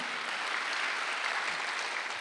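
Church congregation at a Sunday worship service breaks into sustained, even applause, a dense wash of clapping with no pauses.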